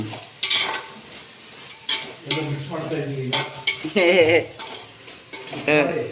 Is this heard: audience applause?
no